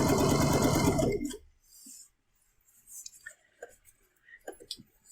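A sewing machine stitches jelly roll strips for a bargello quilt, a fast loud whirring run for about a second that stops, followed by quiet clicks and fabric handling.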